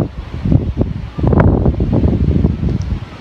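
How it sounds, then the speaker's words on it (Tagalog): Strong gusts buffet a DJI Neo drone during an extreme wind test outdoors, roaring as loud, uneven broadband rumble that swells and dips continuously throughout. "Maririnig nyo sa recording, diba? Ang lakas ng hangin."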